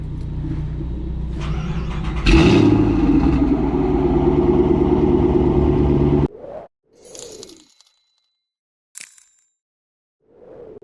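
A catless boosted four-cylinder car engine, already warm, runs steadily and loudly for several seconds on hill runs, then cuts to short bursts of revving and whooshing with quiet gaps between.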